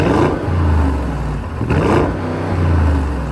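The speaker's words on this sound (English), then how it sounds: "it's very impressive for a car that again makes 500 horsepower and that sounds like this" An Audi SQ8 SUV's 500-horsepower V8 revs loudly up close, two deep surging blips of engine roar rising and falling with a rumbling idle between them.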